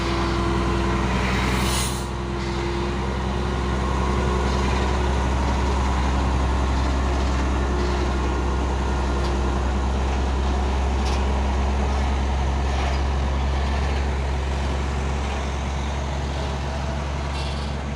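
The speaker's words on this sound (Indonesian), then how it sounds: "Truk Fuso Trinton Super Grade dan juga ada truk trailer Hercules." Orange Fuso Fighter Super Great truck and a Hercules trailer truck idle and rumble nearby, a deep steady engine drone with a brief hiss near the start, continuous and loud.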